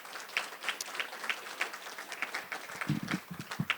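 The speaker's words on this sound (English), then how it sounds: "Let's give them a round of applause and welcome them." Sparse, quiet clapping from a modest audience at a congressional forum, individual claps picking out an uneven rhythm, fairly faint, with a few louder nearby thumps toward the end.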